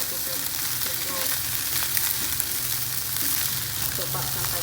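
Indonesian kampung fried rice sizzles steadily in a pan, a soft, even frying hiss with faint stirring scrapes throughout and no talk.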